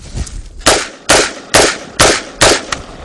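An M16 rifle, just submerged in mud with rocks cleared from it, fires five loud, sharp shots about half a second apart, each ringing out briefly, with no voices.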